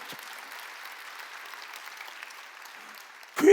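A church congregation applauding during a Wednesday worship service, soft clapping that holds steady, then a louder burst closes the stretch.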